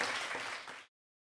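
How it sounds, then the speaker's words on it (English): Children in a classroom clapping for themselves, a dense burst of quiet hand claps lasting under a second before cutting off abruptly. "Give a clap to yourselves."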